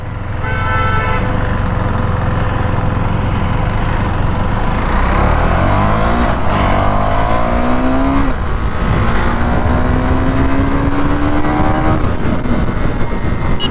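A KTM Duke 390 BS6 motorcycle engine revs hard and climbs through gears, its pitch rising in repeated sweeps over steady road noise; loud and close throughout.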